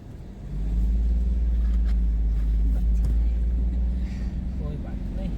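A Mahindra Bolero Neo N10 SUV engine rumbles steadily and loud from inside the cabin as it climbs a slope, with people talking over the drone.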